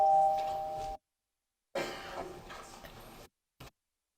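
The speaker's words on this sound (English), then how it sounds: "Clerk will sound the chimes." A bright electronic chime rings out in a state House legislative chamber before a vote, then fades, followed by a short burst of room noise and a brief click, with no talking.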